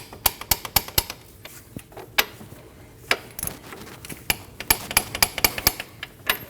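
Someone tightens the bottom bolt on a Honda CR-V front camber kit, making a string of sharp metallic clicks like a ratchet. The clicks come in irregular bursts close to the listener, with short pauses between them and no talking.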